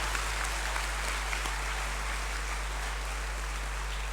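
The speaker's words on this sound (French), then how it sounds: "Je voudrais donc qu'on les applaudisse très fort." Audience applause at an award ceremony for a general academic competition, a steady dense clapping that fills the whole stretch at moderate level with no voice over it.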